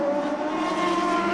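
A Champ Car race car locks its right front wheel during qualifying on the Toronto street circuit in 2003, giving a loud, sustained tire screech over engine roar.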